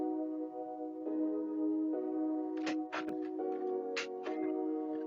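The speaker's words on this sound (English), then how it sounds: "I use the Twerk Team Way piano." Twerk Team Way piano chords in an Afrobeat production, sustained chord stabs changing every second or so, with bright percussive clicks and hits layered on top, steady and fairly quiet.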